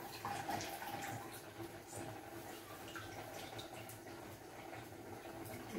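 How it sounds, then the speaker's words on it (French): Grated cabbage pressed firmly by hand, water squeezed out with a soft, continuous wet trickling and dripping, fairly faint and steady throughout. "Il faut bien appuyer, bien presser. Essayez d'enlever le maximum d'eau."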